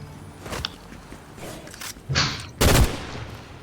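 Several sharp bursts of Fortnite gunfire, scattered across a few seconds, ending in a louder, heavier volley near the close.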